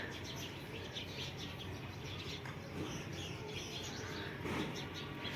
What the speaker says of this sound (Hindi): ये ना शाम का साउंड है, इतने बर्ड्स हैं आसपास, इतनी चीची चीची चीची की आवाज आती है।